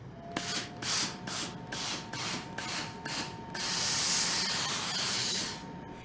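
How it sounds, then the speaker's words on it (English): A hand iron presses quilt block seams flat, giving repeated short steamy hisses with soft thumps of the iron on fabric, then one longer sustained hiss of steam near the end, all close and alone with no talking. "Then press with iron. Then I'm going to turn this over and press open."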